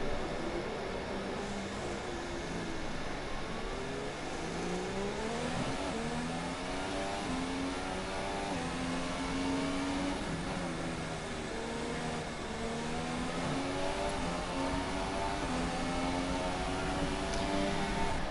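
An onboard engine of a McLaren F2 race car on its out lap at the Singapore street circuit in a sim racing game. The close, continuous whine rises and falls through the gears for the whole stretch, with no talking.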